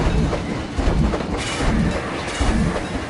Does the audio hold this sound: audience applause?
no